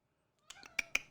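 A cat meows several times in quick succession after a short silence, close and fairly loud, with sharp, bright calls.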